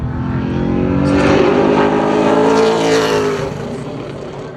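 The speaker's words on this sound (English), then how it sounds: "So Hodges coming around here to complete lap number 2." A Pro Late Model race car, a Chevrolet numbered 16, sweeps past on a short oval at Crisp Motorsports Park during qualifying, its engine note swelling loud and close then fading away as it passes, with no voices.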